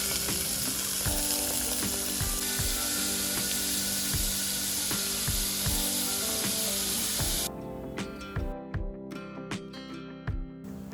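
Sliced onions sautéing in coconut oil in a cooker, salted, for a Malabar beef curry: steady loud sizzling with repeated stirring knocks, dropping to quieter crackle and scattered taps in the last few seconds.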